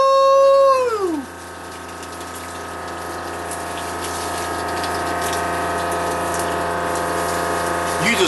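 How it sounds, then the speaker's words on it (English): Water runs steadily from an outdoor shower fed by a Camplux portable propane water heater, a continuous hissing spray that starts after a brief falling whistle and holds loud and even to the end. "You just watched me take a shower."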